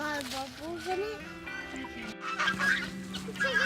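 Chickens and a rooster on a farm cluck and call in a hungry, noisy flock during a below-freezing feeding, with honking-like cries rising through the clip while people talk nearby.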